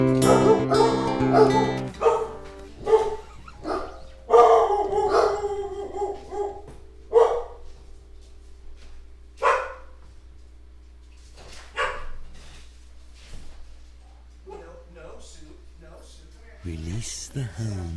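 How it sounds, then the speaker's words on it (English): Dog barks, yips and whimpers in short bursts while someone repeatedly talks over it, heard nearby indoors during a live stream, with faint music in the background. "No barking, bud."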